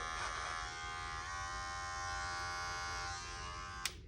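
Electric hair clippers run at close range with a steady, loud buzz while blending a sideburn during a men's faux hawk haircut. A sharp click is heard near the end and no one speaks.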